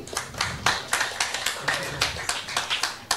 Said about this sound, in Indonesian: kita berikan tepuk tangan sekali lagi Bapak Ibu